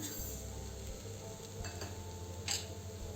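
A coconut barfi mixture with sugar being stirred in a pan over low heat gives soft scraping and a faint sizzle, with a light utensil clink near the end.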